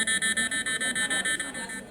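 A phone app's rapid electronic alert beep repeats steadily, about eight pulses per second, shrill and clear, then stops abruptly near the end.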